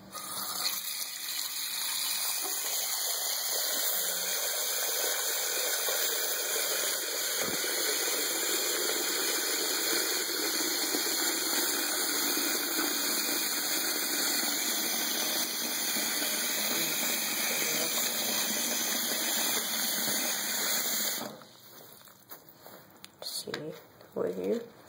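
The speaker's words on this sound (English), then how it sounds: "Go ahead and put it in cold water." A 4th-generation iPod being lowered into cold water, with steady running, tap-like gushing that continues for about 21 seconds and then stops abruptly. Brief handling noises follow.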